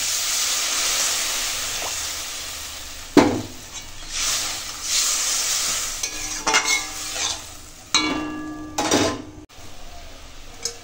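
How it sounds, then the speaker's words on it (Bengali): Water goes into a pan of fried spice paste for a bhola fish oil-chilli curry, raising a close, hissing sizzle broken by stirring scrapes and a few sharp pan clinks. "এবার দেব জল।"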